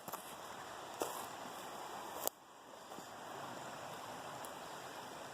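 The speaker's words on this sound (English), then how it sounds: "That's a nice little creek here." Steady, faint rush of a small creek flowing in Idaho's backcountry, with a couple of sharp clicks and a thin tonal hum in the background.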